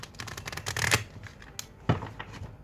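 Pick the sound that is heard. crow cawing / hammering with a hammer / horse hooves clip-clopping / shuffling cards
shuffling cards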